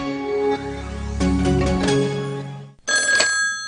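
A telephone rings in a radio or TV advertisement, a loud ringing tone with steady harmonic overtones, cut briefly before a second burst of ringing.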